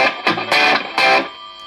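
A 2019 Epiphone Les Paul Classic electric guitar through heavy distortion, playing a few loud, saturated strummed chords in quick bursts that ring briefly and fade, with no voices.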